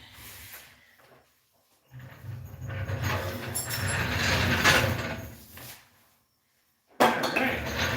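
A jack lets down during a Volvo engine installation, with a few brief mechanical clicks, then a longer grinding, ratcheting metallic stretch and a sharp clank near the end, set against quiet workshop surroundings.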